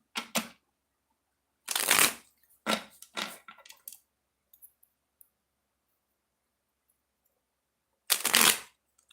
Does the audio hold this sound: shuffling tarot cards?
yes